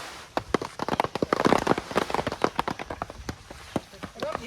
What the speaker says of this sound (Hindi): वर्षा भेलै पूरा